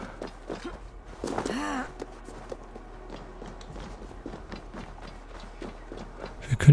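Horse hooves clip-clopping at a walk in the Viking-era game Assassin's Creed Valhalla, a steady rhythmic series of light hoof taps with a louder clatter near the start.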